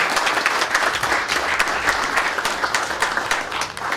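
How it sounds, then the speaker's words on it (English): A city birthday celebration audience in Brookhaven applauding together, dense sustained clapping from a large crowd that fills the whole stretch without any talk over it. "I just want to give all of you a round of applause before we even get started."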